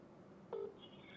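A telephone dialing a call gives one brief keypad tone that stands out against a quiet line, followed by near silence.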